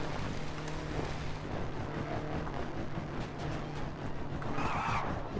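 Vehicle driving off in the Trailmakers video game, a continuous engine drone with low steady hum and scraping, skidding texture held at a constant level throughout, with no talk.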